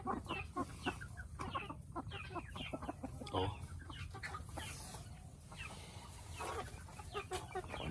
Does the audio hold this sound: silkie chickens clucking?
yes